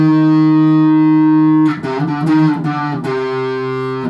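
Distorted electric guitar plays a riff: a long sustained low note, then a busier run of bent, sliding notes before settling on another held tone, loud and close with no talking.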